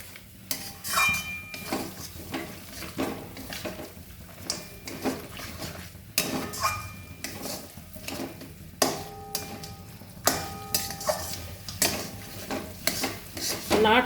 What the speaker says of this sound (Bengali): নাড়তে হবে ভালো করে